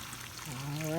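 Hot water drains from cooked noodles into a colander in a kitchen sink, a brief steady pour that rises in pitch as it splashes, heard up close.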